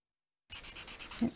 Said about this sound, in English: I'm going to start working with my smudge stick.